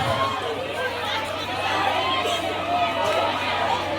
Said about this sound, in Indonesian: terima kasih sorakannya